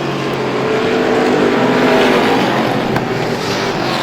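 Race cars roar around the Star Speedway oval during a strictly-stock feature, a loud continuous engine drone with rising and falling pitch as the pack passes close by.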